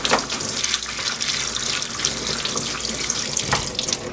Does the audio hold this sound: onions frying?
no